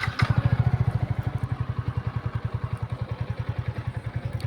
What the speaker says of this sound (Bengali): এবার চলো বাইকে বসি